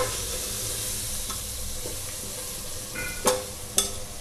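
Spices, black pepper and garam masala being stirred together in a pan for Andhra village-style fish curry, a steady scraping sizzle with two sharp utensil knocks against the pan near the end.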